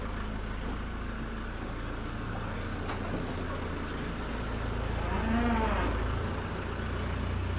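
Young bulls on a farm give a single clear, drawn-out moo at moderate distance, rising over a constant low rumble of an idling engine, with no talk.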